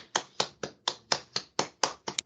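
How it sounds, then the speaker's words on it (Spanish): A small group claps for a speaker closing a sales talk: about ten separate, crisp claps in an even rhythm, close and fairly quiet, ending with a couple of quicker ones. "dar un fuerte aplauso a Francisco"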